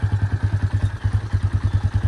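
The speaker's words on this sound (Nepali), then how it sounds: "बाइक चाहिँ यहीँ छ" A motorcycle engine idles close by with a steady, rapid low thumping pulse, one of two bikes set for a four-person group ride on New Year's Day.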